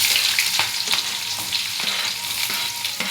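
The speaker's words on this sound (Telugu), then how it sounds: "ఉల్లిపాయలు ఫ్రెండ్స్, ఉల్లిపాయలు వేసి బాగా వేడి చేద్దాం. బాగా ఫ్రై చేయాలి ఫ్రెండ్స్." Onions and curry leaves frying in a pan give a steady close sizzle, broken by repeated sharp taps and scrapes of a spoon stirring at an uneven rhythm, with no voices.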